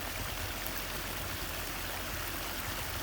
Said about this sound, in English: Beautiful Pollinator waterfall.